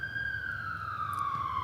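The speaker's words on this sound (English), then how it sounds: "it's the longest fucking siren ever" A police siren wails along a street in one long, steady, slowly falling tone, loud and close, with faint street noise underneath.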